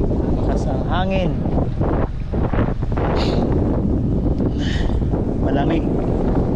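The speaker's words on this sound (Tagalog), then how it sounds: "Kaso lumakas yung hangin." Strong wind at sea buffets the microphone on a fishing boat, a loud, constant roaring rush with gusty swells and brief tonal whistles, while someone talks over it.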